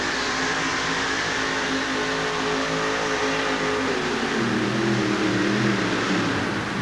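A supercharged, fuel-injected monster truck engine roars at full race speed in a 1988 Anaheim stadium event, a loud continuous growl with a shifting pitch and no clear talk.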